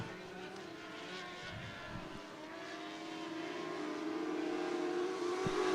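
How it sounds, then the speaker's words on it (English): Dwarf race cars roar around Cottage Grove Speedway at the start of a heat race, their engines droning together and swelling louder as the pack builds speed, heard from trackside. "Green flag is out for the final heat race for the Dwarf cars."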